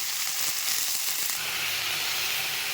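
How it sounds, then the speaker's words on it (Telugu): Washed amaranth greens drop into a hot pan of fried garlic, green chillies and onions, and a loud, steady sizzle and hiss fills the whole stretch without pause. "ముందుగా కడిగి పెట్టుకున్న కొయ్యూరని దీంట్లో వేసేసుకోవాలి"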